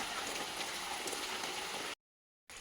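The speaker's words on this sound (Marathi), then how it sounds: "इथे मगापासून पंधरा मिनिटापासून जोरदार पाऊस सुरू झालेला आहे" Heavy rain pours steadily in Malvan on the Konkan coast, a dense, even hiss that holds throughout, drops out to silence for about half a second, then resumes.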